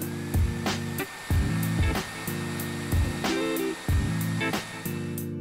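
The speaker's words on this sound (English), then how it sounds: "Take the hairdryer and heat the edges of the ear cup skin." A hair dryer runs steadily up close, heating the edges of a headphone ear cup skin, its motor whine broken by a few short pulses as it is moved or switched.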